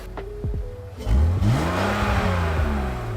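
A BMW E46 engine fitted with a cold air intake revs up close, its pitch rising and falling with a throaty whoosh of air intake, after a few brief clicks.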